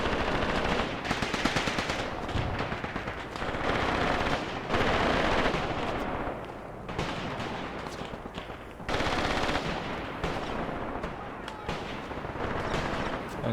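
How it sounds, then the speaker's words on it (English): Machine-gun fire in the WWII tactics game Graviteam Tactics, aimed at Soviet soldiers: sustained rattling bursts and scattered shots that come in waves, with brief lulls between volleys and distant booms mixed in. "And shooting at Soviet soldiers."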